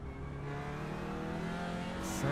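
An Audi touring car in a racing video game drones steadily from the onboard view, one sustained engine note that climbs slightly as it accelerates, heard on its own.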